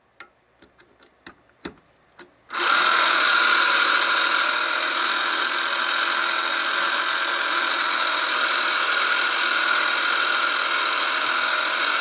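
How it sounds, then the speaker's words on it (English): A Clack water softener control valve powers up with a few soft ticks and clicks, then its motor starts and hums steadily as the valve repositions, close and continuous with no talk. "the valve repositions itself"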